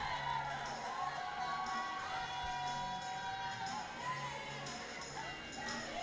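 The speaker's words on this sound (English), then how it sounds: "And the crowd loves it." A hockey arena crowd roars steadily during a fight between players on the ice, a dense, sustained wash of cheering and shouting that holds at an even level for several seconds.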